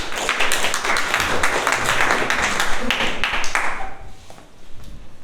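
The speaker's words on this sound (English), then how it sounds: "Round of applause for him." Meeting audience clapping for the general evaluator at a Toastmasters session, a lively close round of applause lasting about four seconds before tapering off into quiet room sound.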